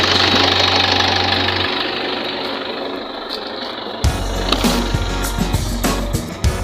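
A Toyota 2KD diesel engine with an oil consumption problem runs in a mechanic's workshop, a loud steady rumble that shifts abruptly partway through into a harsher clatter with knocking pulses.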